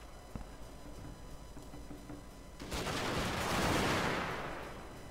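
A musket volley from a firing line in the Shogun 2: Fall of the Samurai battle game erupts midway as a loud, rolling crackle of massed gunfire that swells and fades over a battlefield din.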